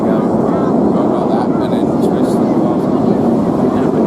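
Red Arrows BAE Hawk jets flying an airshow display at Torbay, a steady broad jet roar that stays loud and unbroken, with commentary over the public address running on top.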